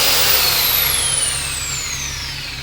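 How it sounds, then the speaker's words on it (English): A Makita 5-inch disc sander runs steadily with a loud, close, high whine whose pitch slowly drifts downward as it winds, no voices present. "So that's the 5-inch makita disc sander."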